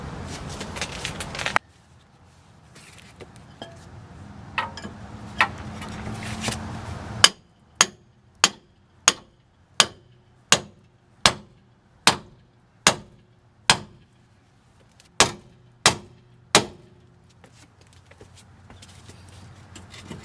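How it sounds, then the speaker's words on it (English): A hammer strikes a ball joint on a 1999 Hyundai Elantra repeatedly, about a dozen sharp, evenly spaced clanks ringing out loud and close, with a few softer knocks and handling noise beforehand. "I'm going to get a hammer and see if we can get this sucker dislodged"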